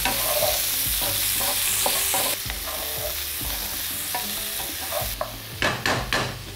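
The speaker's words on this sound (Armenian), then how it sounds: "լցնում ենք գազարը և բրոկոլի ծաղկաբույլերը, լուշորեն տակնու վրա անելով տապակում ենք" Carrots and broccoli florets sizzle steadily in a hot pan, with repeated scraping and clacking as they are stirred, growing busier toward the end.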